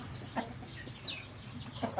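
An older fighting cock, slow and less agile than in its youth, gives a few short, soft clucks spaced about a second apart over faint background noise.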